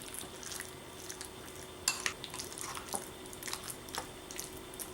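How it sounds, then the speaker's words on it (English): A spoon or fork stirs a tostada casserole mixture with Tapatio hot sauce in a bowl. The stirring is quiet, with light clinks and scrapes against the bowl and a few sharper taps. "And then I'm gonna give it a mix"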